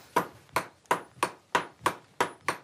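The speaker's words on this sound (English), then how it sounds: "And when he hits the anvil, I stop." A blacksmith's hammer strikes iron on an anvil eight times at a steady pace, each blow a sharp ringing hit that fades quickly, close and clear with no talk.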